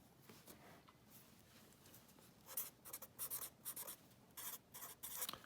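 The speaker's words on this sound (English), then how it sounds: "So let me write it down" Chalk or marker writing on a board during a math lecture, faint at first and then a quick series of tapping, scratching strokes in short bursts, with no speech.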